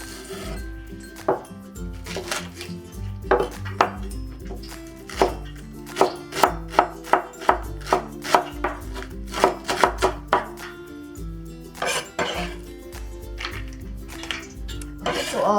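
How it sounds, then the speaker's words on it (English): A knife mincing green onion on a cutting board, with rapid, close, rhythmic chopping taps in bursts and short pauses, and no talking. "We'll also mince the green onion."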